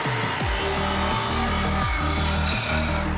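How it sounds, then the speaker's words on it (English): Disc sander grinding a wooden piece down to size, rising and falling whine with repeated rasping passes as the wood is pressed against the spinning sandpaper, close and loud with no speech. "so I used a disc sander to slowly get it to size"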